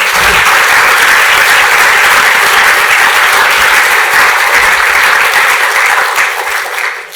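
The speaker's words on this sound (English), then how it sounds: "So if you give them a round of applause as well, that'd be great." Loud, dense applause from a large audience at a hackathon closing ceremony, a steady wash of many hands clapping that holds for the whole stretch and thins slightly at the end.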